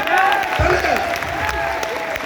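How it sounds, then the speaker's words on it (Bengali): An audience claps together in a steady, dense burst of applause indoors, with a voice speaking over it. "তালি হবে, তালি হবে, তালি।"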